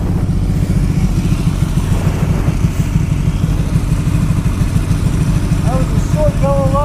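Ducati 1199 Panigale S sitting at idle near a traffic light, a steady low engine throb that runs continuously and fairly loud, with a few faint chirping tones near the end.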